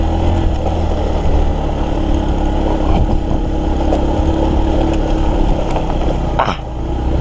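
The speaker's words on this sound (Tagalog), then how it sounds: "Parang umaangal yung motor ko ah." Suzuki GD110 motorcycle engine straining on a damaged, rain-wrecked road, a steady loud droning hum with rough low rumble, heard close and continuous with a brief clatter near the end.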